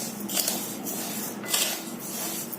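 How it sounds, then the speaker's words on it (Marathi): Rice being dry-roasted in a pan over low heat for chakli flour, a soft continuous scraping and rustling of grains as they are stirred, with gentle periodic swells. "सलग हलवून हे तांदूळ आपण भाजून घ्यायचंय"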